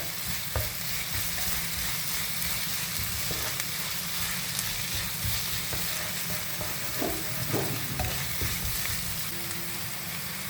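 Masala for a Kerala-style rabbit roast sizzling steadily in a hot pan, with a spoon scraping and stirring through it in irregular strokes, close and continuous with no talking.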